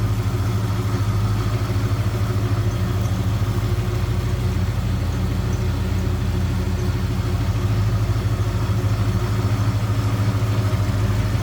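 A 1964 Ford Fairlane 500 two-door hardtop with its 289 V8 idling steadily, a close, even, low rumble with a smooth continuous throb throughout.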